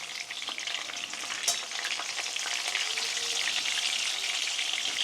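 Food frying in a pan, a bright steady sizzle close up with a sharp tap of a utensil as it is flipped, then the hiss carrying on, no talking.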